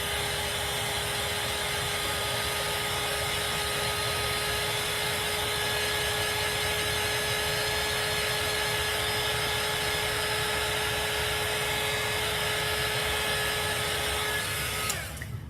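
A heat gun drying chalk paint on furniture gives off a steady, loud, unbroken blowing whir that holds for the whole stretch and cuts off at the end.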